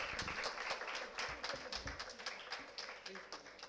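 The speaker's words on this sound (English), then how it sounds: "A round of applause for Dr." An audience applauds at a live-streamed event in Port Blair, a dense burst of clapping close to the microphone, holding steady for a few seconds beneath talk.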